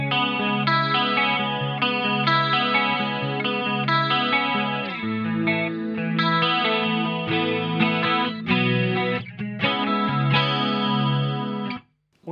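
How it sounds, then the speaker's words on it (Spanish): An electric guitar plays chords through a tri-stereo chorus pedal in a rack setup, giving a shimmering, wide modulated tone that sustains steadily and stops abruptly at the end. "Sumo chorus, que tengo un triestéreo chorus en formato de pedal."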